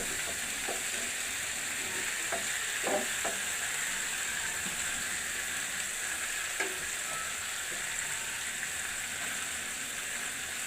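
Fish frying in a pan with only a little oil, a faint, continuous crackling sizzle with a few small pops and light taps scattered through it.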